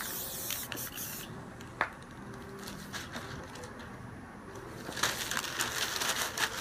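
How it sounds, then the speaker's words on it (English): Short hissing bursts of crystal clear coat from an aerosol spray paint can, several quick sprays with a longer, louder blast near the end, fairly quiet and close with no talking. "you want to spray some crystal clear over the middle"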